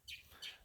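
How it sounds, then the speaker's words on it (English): Birds chirping outdoors on a rural property near Waco, Texas: two faint, brief bursts of high tweeting about a third of a second apart over quiet background air. "But you can hear the birds chirping."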